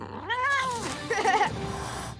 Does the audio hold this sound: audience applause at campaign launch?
no